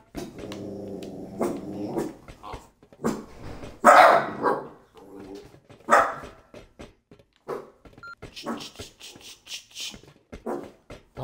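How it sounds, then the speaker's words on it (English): Dogs in the game Rust bark, yip and growl in a series of sharp, irregular bursts at moderate loudness, with no talk. "Puppies."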